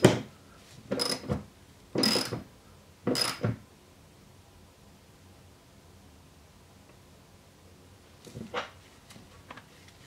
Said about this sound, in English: So I'm gonna take 13 millimeter socket and tighten this down.